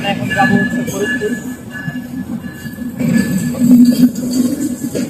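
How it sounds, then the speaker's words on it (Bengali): A passenger train pulling into a station on the Kushtia line in Bangladesh, with a loud continuous rumble and squealing wheels that swell toward the end, heard close from the platform. "আর আমরা যে ট্রেনটার জন্য অপেক্ষা করছি ট্রেনটা হচ্ছে আসতেছে।"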